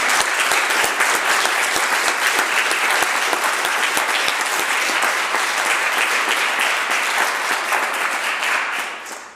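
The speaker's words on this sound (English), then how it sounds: "we should all give them a big round of applause" Applause fills the British Columbia Legislature chamber, sustained and dense with individual sharp claps standing out, then tapering off near the end.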